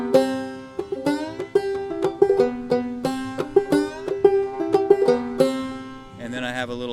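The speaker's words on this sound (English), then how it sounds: "I wrote the song on a half fretless banjo, so a lot of the groove is really the sliding up and down" Half fretless banjo picking the B part of the tune Groundhog, plucked notes sliding up and down the neck in a loose, bouncy groove, close and clear, played alone without talk.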